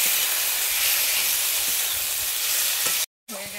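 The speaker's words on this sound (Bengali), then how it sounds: "টমেটোটা দিয়ে আমি ভালোভাবে নেড়ে নিচ্ছি।" Tomato and spice masala being stirred in a pan with a splash of water, a steady loud hiss and sizzle throughout with faint scraping, cut off briefly near the end.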